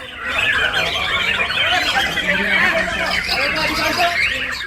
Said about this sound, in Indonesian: lomba kicau burung digelar di Lantamal 13 Tarakan